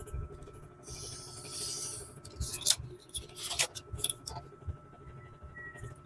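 Scissors cut through a printed paper wedding invitation in a few short snips and rasping slices, close and fairly quiet over a faint steady background hum.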